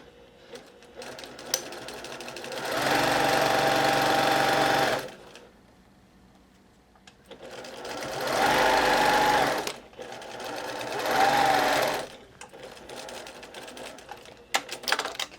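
Sewing machine stitching a seam about 3/8 inch in a woven summer placemat, in three steady bursts of rapid mechanical chatter separated by pauses, with faint handling noises between runs.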